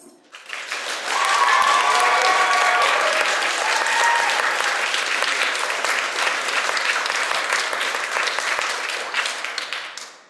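Live audience applause fills the room at a recorded Agatha Christie discussion event, a dense wash of many clapping hands that swells quickly, holds steady for several seconds, then gradually tapers off, with some whoops and cheers riding on top.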